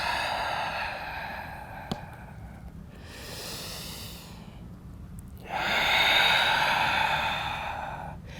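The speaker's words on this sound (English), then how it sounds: "Use that Ujjayi breath here." Slow, deliberate Ujjayi breathing during a yoga sun salutation flow: long, breathy hissing inhales and exhales, close and fairly soft, rising and falling in a steady cycle with no talking.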